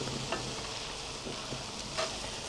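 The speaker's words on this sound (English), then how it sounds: "Gently move the onions about the pan" Onions with a little salt sizzle softly in a pan while being gently moved about, a quiet steady fry with a few faint scraping taps of stirring.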